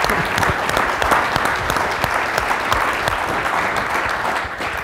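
Conference audience applauding steadily for the United States of America, a dense, even wash of clapping held at full strength for about five seconds with no talk over it.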